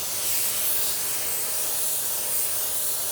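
Close, steady hiss of a spray gun laying a coat of car paint during a blending job, an even, airy rush that holds unbroken from start to finish without speech.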